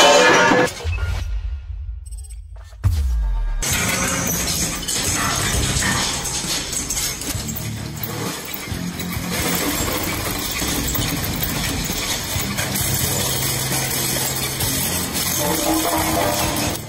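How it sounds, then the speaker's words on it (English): An industrial shredder tears apart scrap cars: after a brief sharp crash and a short pause, a dense, loud grinding roar of crushing steel and clanking machinery runs on continuously. "The distinct sound marks steel being reduced under controlled force."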